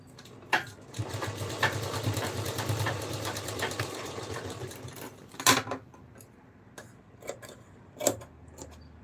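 Sewing machine stitching a small dress for baby Krishna for Janmashtami runs steadily for several seconds up close, then stops, followed by a few scattered sharp clicks and taps.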